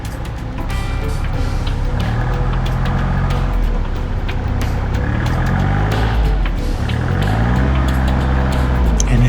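A vehicle's tire spins in deep mud on an old canal bank while sourcing firewood, the engine roaring steadily and rising in repeated pitch sweeps as the wheel churns, loud and close throughout with no talk.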